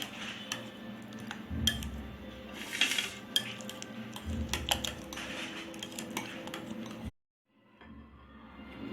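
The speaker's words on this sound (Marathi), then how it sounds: "काजू आणि हे बदाम. पुन्हा हे छान असं मिक्स करून घ्यायचंय." A spoon mixes homemade shrikhand with raisins, cashews and almonds in a bowl, producing soft repeated scraping, clinking taps and wet squishing up close, then a brief silence and faint background.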